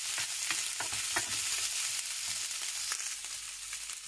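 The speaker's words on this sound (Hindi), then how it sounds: "तो अच्छे से हमने फ्राई करना है, बहुत हल्का सा, बस इतना कि ये थोड़ा सा ब्राउन हो जाए" Chicken pieces frying lightly in a pan for chicken spaghetti, a steady close sizzle with soft crackles and occasional stirring scrapes throughout.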